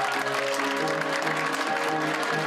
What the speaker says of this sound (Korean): 여러분들 큰 박수 한번 드리겠습니다.